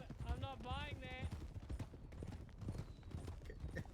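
Steady horse hooves clip-clopping from the video game WildRP, a continuous rhythmic trotting beneath people talking over it throughout.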